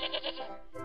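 A single goat bleat, nasal and wavering, close by, fading into a short breathy tail.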